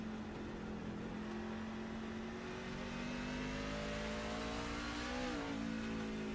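A racing truck engine in a video game strains up a hill at Lime Rock Park, a steady buzzing drone with rising pitch, heard faint and continuous without talk.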